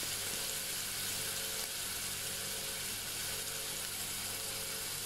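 Chicken frying in a pan until lightly browned, a constant dense sizzle and crackle with no voices.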